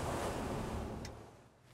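Rough sea waves off the coast of Norway, seen from a fishing trip, a brief broad wash of surf and wind noise that fades toward the end.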